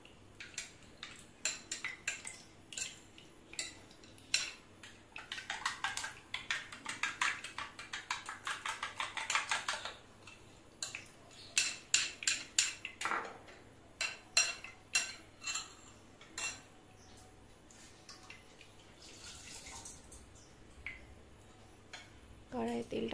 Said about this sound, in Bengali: ডিমটাকে ভালো করে ফেটিয়ে নিচ্ছি।